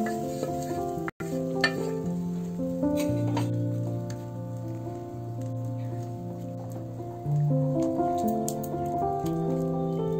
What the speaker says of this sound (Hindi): इसमें हम पकी हुई दाल डाल देंगे। दाल को पानी के साथ ही डालेंगे।